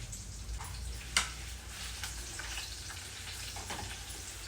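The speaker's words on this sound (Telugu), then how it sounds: "మంచి ఎర్రగా వేయించుకోవాలి ఈ విధంగా రెండు మిరపకాయలు మంచిగా కొంచెం బ్లాకిష్ వచ్చేంత వరకు వేయించుకోవాలి" Dried red chillies fry in hot oil, giving a soft, steady sizzle with faint pops and one brief clink near the start, close by and quiet, with no talking.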